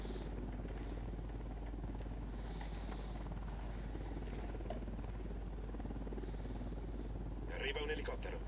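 A helicopter in the Ghost Recon Wildlands shooter game throbs with a steady, loud rotor drone and low hum, while voices talk over it and sharper noises break in toward the end.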